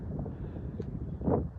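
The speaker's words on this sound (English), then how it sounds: "maybe I'll come down to a point where it's a bit less windy" Wind gusts over a high mountain road on a cycling trip from Manali to Leh, buffeting the microphone as a low, rumbling roar that swells near the end.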